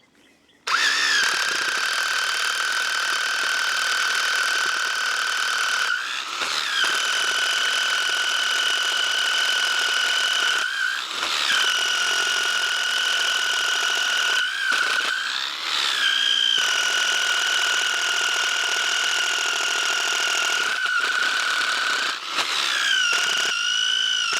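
A powered drill with a long bit bores into a wooden farm H-brace pole, a loud, high, steady engine whine running continuously with several brief dips and revving swells as the bit works through the wood.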